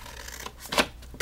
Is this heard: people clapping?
no